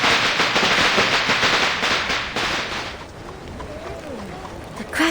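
Firecrackers crackle in the Reverse 1999 game, a dense run of popping bursts that is loud at first and then thins out, with a voice talking faintly beneath.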